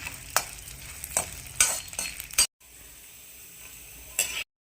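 Dry fruits roasting in ghee in a pan, a soft sizzle broken by sharp spoon scrapes and clinks against the metal, then a brief quieter stretch of low frying before a final scrape.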